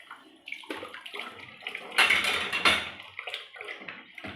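Running water splashes and sloshes in a kitchen sink as a pot with stuck-on cooked rice is scrubbed clean, a steady close wash with a louder surge of water near the middle.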